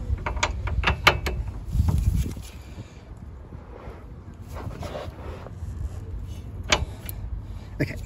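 A nut on a car shock absorber, probably a worn nyloc nut, being tightened by hand: sharp ratcheting clicks at first, then quieter mechanical rattles and scrapes nearby.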